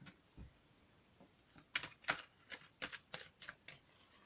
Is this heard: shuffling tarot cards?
yes